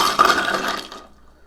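Whiskey or pisco sour poured from a shaker into a frosted glass, a short splashing gush of liquid that quickly tapers off into silence.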